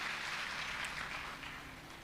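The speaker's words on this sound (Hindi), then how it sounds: "ताली तो आपने बजा दी।" Faint, distant applause from an audience at a Bhagwat Katha religious discourse in Sagar, a soft continuous patter of clapping that eases slightly toward the end.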